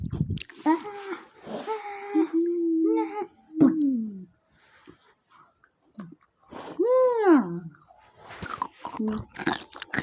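Crunchy french fries being bitten and chewed, giving short crisp crunches scattered between stretches of high-pitched, animated voices talking nearby.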